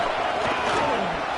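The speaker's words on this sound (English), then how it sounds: "this home crowd is fired up and ready to make a difference today" A home crowd roars in the Madden football video game during a playoff game, a steady, dense wash of cheering that fills the whole short moment without a break.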